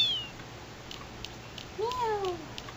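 A cat meows once in Final Fantasy VIII, a short rising-then-falling call that comes after a quiet stretch with a few soft clicks and a brief chirp.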